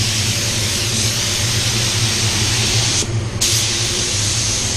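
Paint spray gun laying down a coat of a difficult colour at high pressure, a loud steady hiss running throughout with a brief dip in the middle as the trigger eases off.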